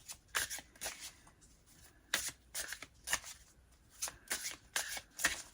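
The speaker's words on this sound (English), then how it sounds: "let's shuffle it up and see what the book has to say" Close, crisp oracle card shuffling in about nine quick riffling bursts with brief pauses between them, set against a quiet background.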